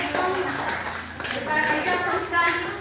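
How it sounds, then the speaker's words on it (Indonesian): A class of children claps together in a classroom, steady broadband applause running throughout with children's voices and chatter mixed in close by. "Oke, tepuk tangan"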